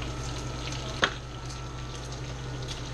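Bacon sizzling steadily in a pan, a constant close frying hiss with one brief sharp clink of stirring partway through.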